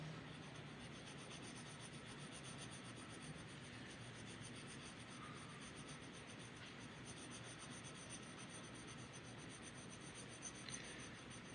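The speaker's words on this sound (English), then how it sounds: "There's the train." A train passes somewhere in the distance as a steady, low rumbling wash of rolling noise that stays even and fairly faint for the whole stretch, with no voices over it.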